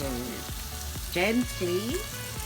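Food sweating and sizzling in a pot for a Jamaican dish, a steady low frying hiss running throughout beneath short spoken phrases and voice sounds.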